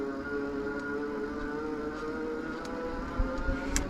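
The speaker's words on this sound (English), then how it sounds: "I am thoroughly impressed this motor is even clearing the hill" A 500-watt electric motor on a folding bike strains up a steep hill, giving a steady tonal whine with harmonic bands over rolling road and wind noise, plus a few faint clicks near the end.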